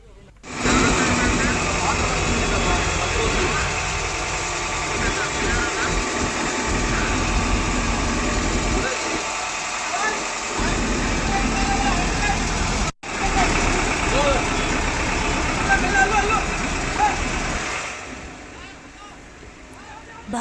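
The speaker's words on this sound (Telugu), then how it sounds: "భారీ మోటార్ల సాయంతో వరద నీటిని తొలగించారు" Heavy motor pumps clearing flood water after rain in low-lying Hyderabad streets give a continuous loud engine drone with splashing, steady throughout with one brief break and a fade near the end.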